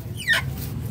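A single short cluck from a chicken nearby, heard briefly over a low background rumble.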